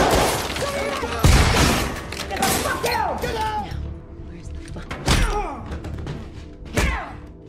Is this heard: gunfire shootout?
yes